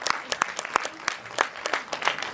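Audience applause at a health and wellness seminar at a school: scattered, fairly sparse hand claps in an uneven rhythm, moderately close and not very loud.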